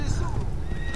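A horse whinnies in Assassin's Creed II, with clip-clop hooves and a steady background bed under someone talking in German.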